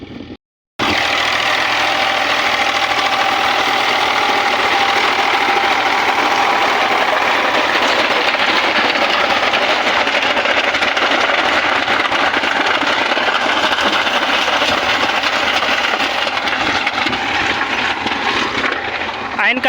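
A tractor pulling a rotavator in a field makes a loud, steady engine drone with a rattling mechanical churn, running continuously, close by, after a brief moment of quiet at the start.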